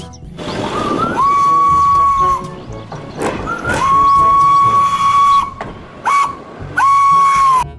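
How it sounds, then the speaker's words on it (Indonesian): A toy Thomas steam train whistle blows several times: long steady tones interrupted by short gaps and a brief toot, over a chugging, rattling mechanical background. "Kereta Thomas."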